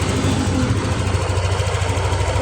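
Yamaha NMAX scooter engine running after a fuel pump fix: a close, steady idle with a low, even rumble and faint rattling vibration, no gaps.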